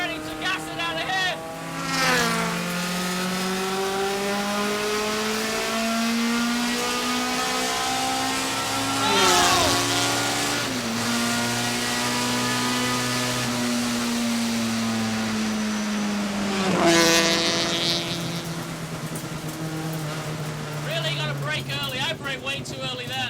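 A vintage Datsun BRE 510 race car accelerates hard on track, its engine close and loud, rising through the revs with several gear changes over a steady drone.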